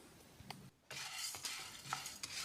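Chana dal dry-roasting in a pan over moderate heat, stirred with a spoon: soft scraping sweeps and light rattling of lentils against the metal, with a faint steady sizzle and a brief quiet gap.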